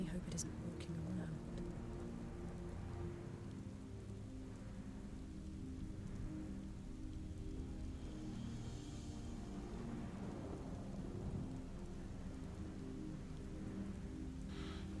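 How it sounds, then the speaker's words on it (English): Rain falls in Final Fantasy XIV Stormblood, a soft continuous patter with low rumbling underneath, faint and steady for the whole stretch. "Of course it starts raining now."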